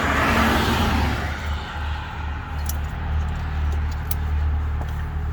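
Loud cars without mufflers rush past on a nearby highway, a steady low roar of traffic with a louder approach at the start and a continuous drone afterward.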